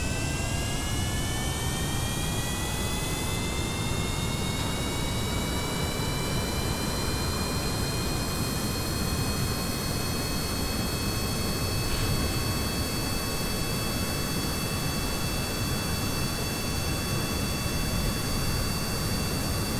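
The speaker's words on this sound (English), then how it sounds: "Get those engines going." Rocket engines firing in the Kerbal Space Program video game, a continuous loud roaring rush with a slowly rising whine, steady and unbroken for the whole stretch.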